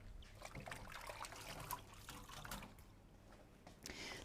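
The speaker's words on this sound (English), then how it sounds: "Wash my hands again." Hands being washed under a running kitchen tap while cooking a cheesy greens and leek pie: a faint, steady trickle and splash of water with small irregular drips and rubbing, and no speech.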